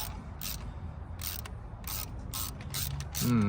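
A hand ratchet tightens a bolt on a Pontiac Fiero GT, its clicking pawl ticking in short bursts at close range during a repair, with a brief louder clatter near the end.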